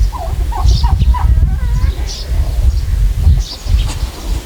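Several turkeys, two males and three females, gobble in quick rattling bursts at a farm near Karachi, loud and close, with one call after another over a steady background rumble.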